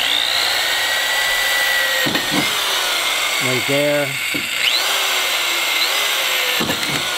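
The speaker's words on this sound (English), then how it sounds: "it actually is a hammer drill at that point, and when you go to drill, you can feel it going like that" A hammer drill bores small pilot holes during assembly of a new shed, with short whirring bursts that rise and stop, loud and close, while people talk around them.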